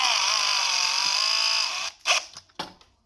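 A drill bores a hole in a piece of angle iron, a steady high whine for under two seconds before stopping, followed by a couple of short clanks of metal handling nearby.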